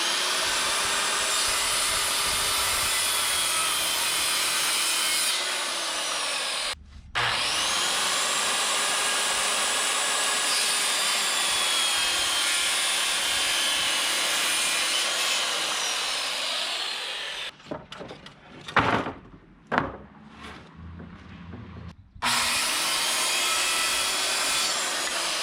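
A power saw cuts 2x4 wood pieces for a mountain bike kicker ramp, with a long, loud, steady whine that drops out briefly, then scattered knocks and handling noise before the cutting resumes.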